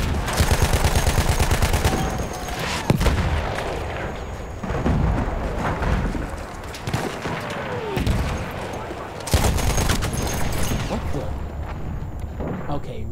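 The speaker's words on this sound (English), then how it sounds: "There's an enemy machine gun!" Heavy gunfire from an enemy machine gun on a Battlefield 1 battlefield set in the Gallipoli campaign, with rapid bursts and booming blasts that run almost constantly, loud and dense across the whole stretch.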